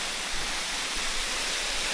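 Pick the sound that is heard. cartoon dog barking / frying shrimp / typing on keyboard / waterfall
waterfall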